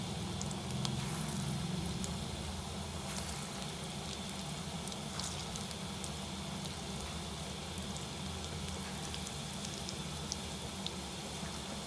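Pakoras frying in hot oil for kadhi pakora, a steady close crackling sizzle with fine popping that holds evenly throughout, no voices.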